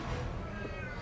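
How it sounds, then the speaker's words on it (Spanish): A cat meows at a door, a short muffled call heard close against a steady background hum. "Ya tengo el gato en la puerta."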